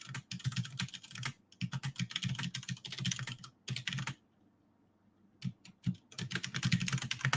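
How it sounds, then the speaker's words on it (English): Typing on a computer keyboard: rapid, close clicking keystrokes in steady bursts, a brief pause near the middle, then a quick resumption, with no talking. "I'm just typing this message here"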